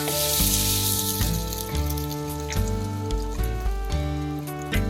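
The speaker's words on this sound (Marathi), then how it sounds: "पॅनवर आपण थोडस तूप किंवा तेल टाकायचं आणि हे असं टाकायचं" Batter of ground fresh peas and chana dal sizzles in a little ghee or oil on a pan, a steady close frying hiss that runs under prominent tonal background music.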